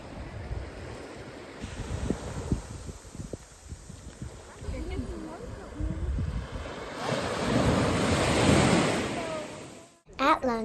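Surf washing onto a deserted beach on Koh Libong, Thailand, a soft steady rush that swells into a louder wave near the end, mixed with wind buffeting the microphone and a few faint voices.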